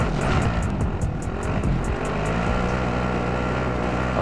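Car driven in Call of Duty: Modern Warfare, a loud continuous engine roar with rising and falling pitch, close and steady throughout, no talk.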